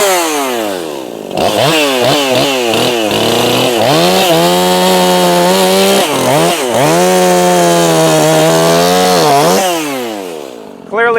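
A modified Echo 4910 chainsaw with a 20-inch bar and steel RS chain, tuned high, revs in a few sharp bursts then screams at full throttle through wood, dropping and rising again before winding down; loud and close.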